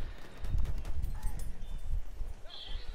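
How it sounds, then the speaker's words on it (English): Horse hooves clip-clop in rapid galloping rhythm inside the Battlefield 1 battlefield, with a brief whinny amid gunfire and mixed game noise, while voices talk over it. "There's a horse."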